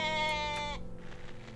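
A single sheep bleats in the video game OneShot, a clear wavering harmonic cry that lasts most of a second and gives way to quiet background sound.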